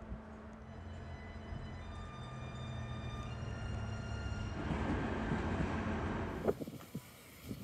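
A train in Vilnius, Lithuania rumbles along steadily with a low hum and faint tonal whine, growing slightly louder before a few clanks near the end.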